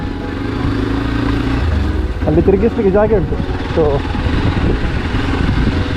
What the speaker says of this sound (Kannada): ನೋಡಿ ಬೈಕ್ ಕೊಂಡೋಗ್ತಿದ್ದಾನೆ ಈಗ.